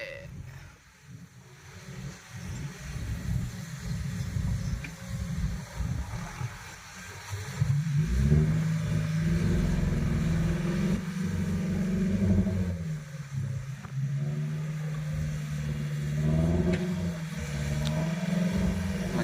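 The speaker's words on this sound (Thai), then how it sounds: "ขนาดรถไถใหญ่เลยนี่ ยังดันไม่ทัน รถไถเล็กนี่เรียบร้อย" Large farm tractor engine straining and revving as it pushes a load at an outdoor event, a continuous low drone that grows heavier and louder partway through, with faint background commotion and no clear speech.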